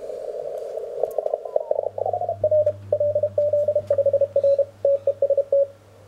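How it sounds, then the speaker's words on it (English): An Elecraft K1 transceiver radio receiving a Russian CQ Mir contest: choppy Morse code beeps come through with a steady low hum and faint static underneath, with no speech. "This is a sample sound of the K1."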